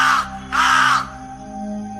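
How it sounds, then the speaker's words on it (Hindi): A crow caws twice overhead, two loud harsh calls in quick succession, close, followed by a quiet low hum. "तभी एक कौवा उनके सिर के ऊपर से चीखता हुआ"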